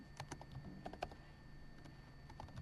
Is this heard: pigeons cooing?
no